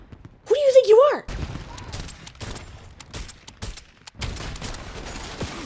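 Paintball guns firing in an online shooter video game: rapid bursts of close, crackling shots in quick succession, preceded by a brief vocal exclamation.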